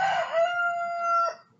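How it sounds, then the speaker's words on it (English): A chicken gives a single clear crowing call, close and loud, drawn out for about a second before it trails off, with no talk over it. "chickens in the background, as you can hear."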